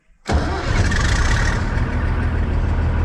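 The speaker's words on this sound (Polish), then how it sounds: "Uwaga, pierwsze odpalenie po zimie." A large combine harvester diesel engine cranks and fires up abruptly on its first start after winter, then settles into a loud, steady rumbling idle close by.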